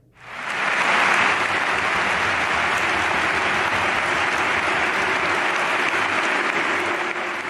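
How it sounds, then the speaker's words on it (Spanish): Valencia supporters at Mestalla give David Silva a long ovation on his return, a dense wall of stadium applause and crowd noise that swells within the first second and holds loud and steady to the end. "la ovación que se llevó David Silva, que volvía 12 años después a la que fue su casa"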